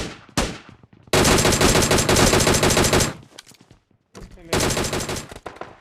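Automatic weapon fire in PUBG Mobile, long loud bursts of rapid gunshots broken by short pauses, with a brief single burst near the start and another sustained volley at the end.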